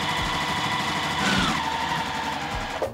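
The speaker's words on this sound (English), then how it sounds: "Take them on over to the sewing machine, and we're going to sew down the entire length of this." A sewing machine stitches down the full length of pre-cut quilting fabric strips for a disappearing nine-patch quilt, a steady loud mechanical whir with rapid rhythmic needle clatter and a slight change in pitch midway.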